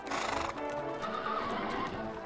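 A team of six horses pulls a carriage, a horse whinnying close by over clip-clopping hooves, with a short sequence of bright neighs and steady hoofbeats.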